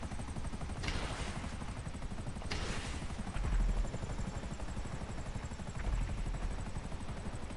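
A helicopter flies in Grand Theft Auto V, its rotor giving a steady, fast chopping beat throughout, with a couple of brief louder bursts along the way and no voices.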